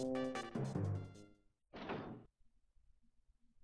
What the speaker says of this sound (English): there's actually like a door closing sound effect